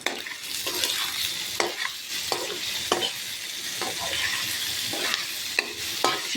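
Green chillies and salt sauté in a pan for mushroom gravy: a bright, hissing sizzle with regular spatula strokes roughly every half second, close up and free of speech.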